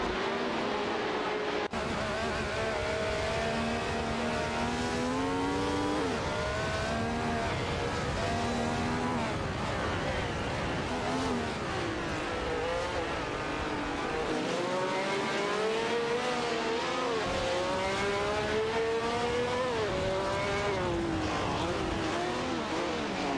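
Honda RA300 and Ferrari 312 race cars battling in a racing video game, high engine whines rising and falling through gear changes as several cars run close together, with occasional tire squeal.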